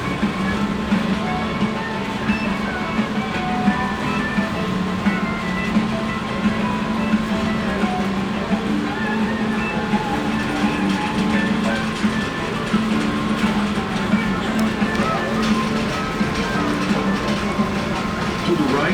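A train rolling steadily along railroad tracks on the Verde Canyon Railroad, entering a curve, a continuous rumble with rhythmic wheel clatter and a low drone, with a voice speaking over it.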